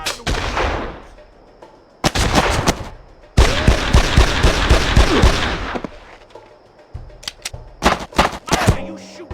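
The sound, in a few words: gunfire shooting out of the windows in the video game Made Man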